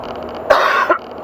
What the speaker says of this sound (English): excuse my coughing, people.